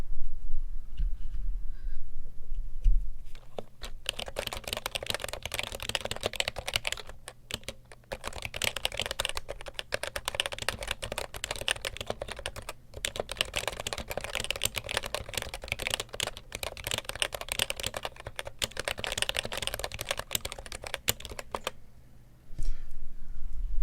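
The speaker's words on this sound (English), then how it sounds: "So let's just do a bit of random typing on this as a whole with the alphas to see what that sounds like." Random typing on an HHKB keyboard fitted with typewriter-style keycaps: dense, irregular clacking of keystrokes close up, starting after a short quiet lead-in and stopping briefly near the end.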